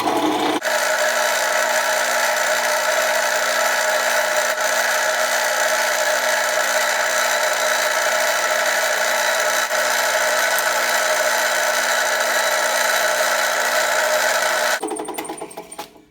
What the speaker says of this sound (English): So I'm using this drill press here just to help make a line.